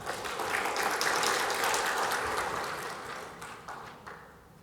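An audience applauds at a finance talk, a dense patter of clapping that builds, holds, then thins out toward the end with a few scattered claps.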